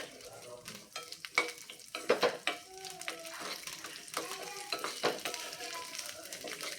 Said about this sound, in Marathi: मिरची अशी तेलावरती अशी भाजूनच घेते त्याचा मिरचीचा कलर बदलेपर्यंत छानपैकी आपण भाजून घेऊया